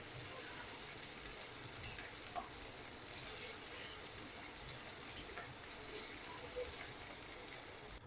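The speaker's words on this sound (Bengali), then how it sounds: "টমেটোর সঙ্গে আদাটা ভালো করে ভেজে নেব।" Tomato and ginger paste frying in a pan gives a faint, steady sizzle with a few soft clicks of a spoon scraping through it, and no one speaks.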